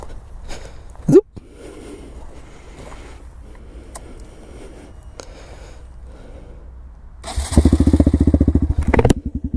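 Custom Honda Grom MSX 125 motorcycle starting up: a few quiet clicks and rustles, then the small single-cylinder engine catches and runs with a loud, rapid, throbbing idle close by, with a brief rev before settling.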